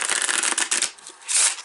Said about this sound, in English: Okay, one more shuffle like this.